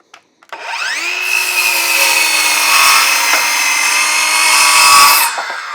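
A Ryobi One P508 cordless circular saw spins up with a rising whine and then cuts steadily through wood for about five seconds, loud and close, before winding down.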